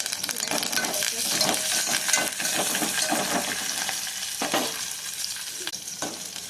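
Tempering sizzles and fries in hot oil with curry leaves, green chillies and onions for semiya upma, a steady crackling hiss with stirring scrapes throughout, close and fairly loud, no talking.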